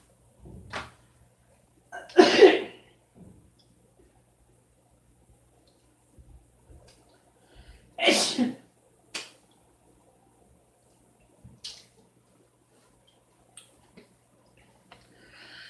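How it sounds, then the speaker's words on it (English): Two sharp, explosive sneezes a few seconds apart, separated by quiet stretches with small clicks and soft handling noises. "Oh, hold on, I gotta sneeze."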